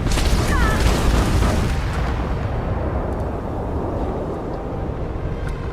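Spaceship combat in Starfield, with heavy booming impacts and blasts of weapon fire hitting the hull, loud and dense at first, then settling into a sustained low rumble.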